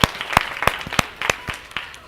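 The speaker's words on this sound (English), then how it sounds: "let's give everybody a clap" Sparse clapping from a small audience at a women's fitness day event, a handful of sharp, distinct claps landing in an uneven rhythm, fairly close and not building into full applause.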